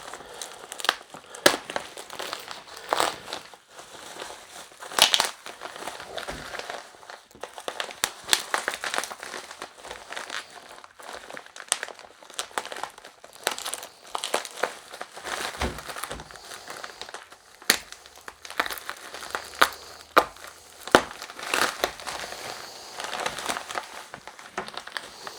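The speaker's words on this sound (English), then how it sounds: "I'll try actually use something to break the tape a bit." A cardboard parcel holding a replacement solenoid driver board is unwrapped and its packing tape broken, giving a long, busy stretch of close crinkling, crumpling and tearing with sharp crackles scattered throughout.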